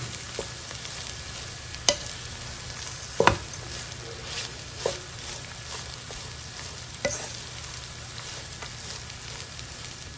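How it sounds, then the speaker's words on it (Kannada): Rice is stirred into a mixture frying in a pan, giving a soft continuous sizzle with scattered scrapes and taps of the spoon against the pan, faint and unhurried, with no voices. "ಅನ್ನ ಹಾಕೊಂಡ್ಬಿಟ್ಟು ಚೆನ್ನಾಗಿ ಒಂದು ಮಿಕ್ಸ್ ಮಾಡ್ಕೊಳ್ಳೋಣ"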